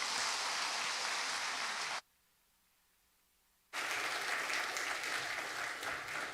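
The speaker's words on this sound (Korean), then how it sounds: "박수하겠습니다." A church congregation at a Sunday worship service claps in a dense, steady rush, then cuts to silence for nearly two seconds before the applause resumes just as full.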